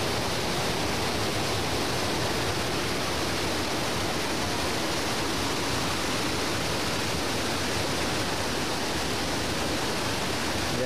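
Steady broadband rush of the Cavagra river flowing nearby, a continuous loud wash of water with no breaks and no voices.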